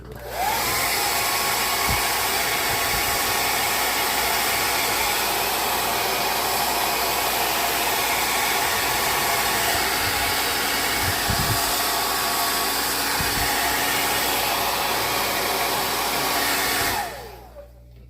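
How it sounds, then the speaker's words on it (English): A hair dryer blows steadily at close range, melting glue on a snow globe music box, a constant loud whirring rush that runs unbroken for most of the clip before cutting off near the end. "I'm going to take my hair dryer and see if melting it'll help it come off a little bit faster here"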